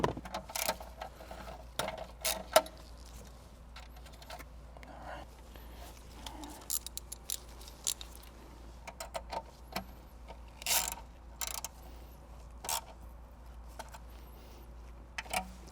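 Quiet ratcheting and metallic clicks from an 8mm socket tightening a radio ground screw inside a 2021 Toyota Venza, heard as scattered short bursts over a low steady hum.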